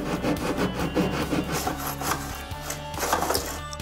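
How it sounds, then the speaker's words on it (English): A hand saw cuts wood at a 45-degree angle in a miter block, giving continuous rapid, rasping back-and-forth strokes that sound loud and close. "We're gonna drop it into the miter block and then hold it in place with these posts. And then we can select the 45 degree angle and get cutting."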